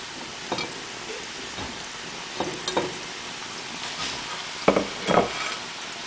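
Eggplant, zucchini and mushrooms sauté in a pan with a soft, steady crackle, broken by several close scraping stirs that grow louder toward the end, with no voices.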